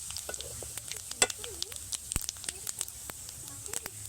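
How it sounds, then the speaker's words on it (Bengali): Whole cumin, dried red chillies and bay leaves frying in oil for a fish curry, a soft crackling sizzle with scattered pops and light stirring taps, fairly quiet and close. "একই তেলে দিয়ে দেবো গোটা জিরে, গোটা শুকনো লঙ্কা, তেজপাতা ভাগ করে।"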